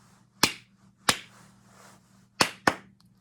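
Four sharp hand claps tapping out a rhythm in a music lesson, the first two spaced widely apart and the last two close together, crisp and isolated against a faint steady hum.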